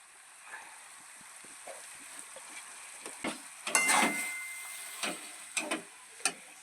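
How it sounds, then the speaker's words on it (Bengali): Mashed potato being stirred into frying masala in a pan for vegetable chop: a soft sizzle runs underneath while a spoon scrapes and clinks several times, the strokes growing louder and busier toward the end. "মশলাটা কষানো হয়ে এসেছে প্রায় এবার মশলার মধ্যে মেখে রাখা আলুটা দিয়ে দেওয়া হলো"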